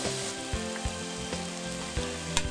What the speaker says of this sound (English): In a thick pan, heat some virgin olive oil and add the onions, carrots, and arenge mushrooms,